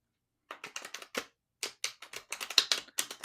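Tarot cards are shuffled in quick, crisp riffling bursts, a short flurry of soft clicking with brief pauses between, quiet and close.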